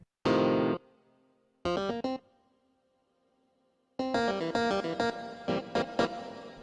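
Short bursts of a bright, distorted synth tone separated by gaps, then a fast run of staccato chords, each decaying into a soft roomy reverb tail.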